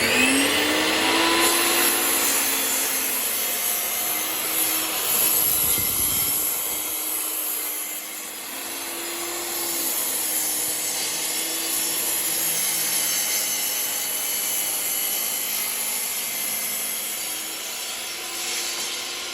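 A plugged-in power saw runs with a sustained, whining motor drone, its pitch wavering as it cuts, with a brief thump and dip partway through before the steady whine resumes.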